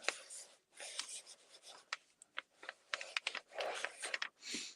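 A fountain pen nib scratches across paper in quiet, close bursts of strokes with short pauses between them.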